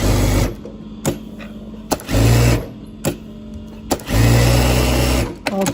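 Industrial overlock sewing machine running in a repair setup after its stitch length is enlarged, giving loud, steady mechanical whirring in several bursts of about a second each, separated by short pauses and sharp clicks.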